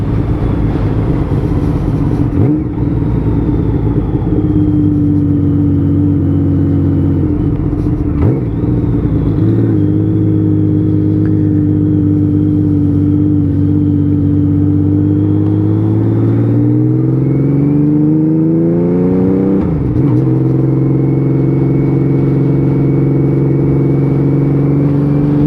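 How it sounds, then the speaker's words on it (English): A rebuilt Honda Valkyrie 1500 motorcycle engine runs loud and close during a test ride, its deep steady drone rising and falling in pitch as the throttle is eased up and back, with no talking over it. "You enjoy the sound of that engine."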